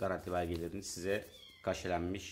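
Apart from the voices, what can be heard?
cats meowing in the background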